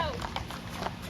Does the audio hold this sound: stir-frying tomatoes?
no